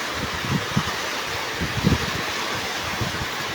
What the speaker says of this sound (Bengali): ওরে দেখেন উড়াধুরা বাতাস